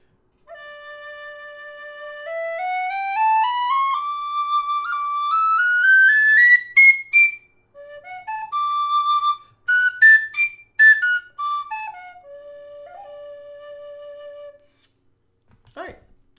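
A Thornton Hybrid high D whistle with a wooden body plays a scale, clear pure tones stepping upward and then back down. The notes are close, bright and steady, heard alone.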